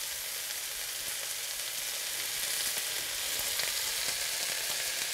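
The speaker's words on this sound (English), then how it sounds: "you've got some sauteed Swiss chard with some other vegetables like onions and garlic, fresh herbs and olive oil" Swiss chard sautéing with onions, garlic and fresh herbs in olive oil gives off a loud, steady, close sizzle that holds evenly throughout, with no voices.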